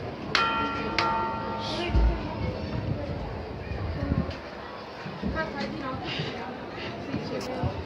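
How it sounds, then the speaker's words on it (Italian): A few strikes on the second and third church bells of Sant'Andrea in Chioggia, Italy, ring out with shimmering tones, separated by gaps, while people talk and shuffle nearby. "Campana seconda e terza."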